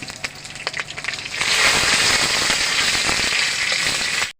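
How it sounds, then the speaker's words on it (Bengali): Three dried red chillies with whole mustard seeds and slit green chillies are dropped into hot oil for tempering Bengali lentils, spitting and crackling, then surging into a loud, steady sizzle that cuts off abruptly. "3টে শুকনো লঙ্কা ফোড়ন দেবো।"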